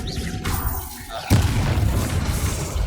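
A Confringo fire spell in the Hogwarts Legacy video game detonates in one sudden, loud boom about midway, followed by a rumbling tail, with game combat noise before it.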